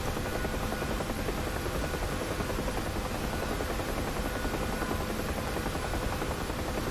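A Huey helicopter flies over the Syria map in the DCS flight simulator, its rotor and turbine making a steady, dense, loud drone throughout with no pauses.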